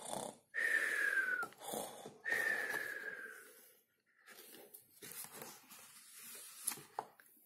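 A narrator's voice imitates the deep snoring of the Gruffalo in a Catalan children's story, two long rasping snores in a row, then softer breathy wheezes and snorts trailing off.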